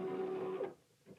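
A LOKLiK Crafter cutting machine starts a vinyl cut with a short, faint motor whine holding a steady pitch for about half a second, followed by soft mechanical whirring.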